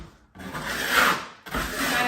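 Steel trowel spreading and scraping a thin Venetian plaster skim coat on a kitchen range hood, a close, continuous rasping rub that swells and fades in two long strokes with a brief pause between.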